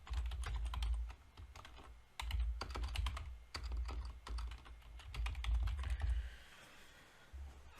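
Quick bursts of clicky typing on a computer keyboard, close and fairly quiet, coming in several rapid runs separated by brief pauses, with no talking.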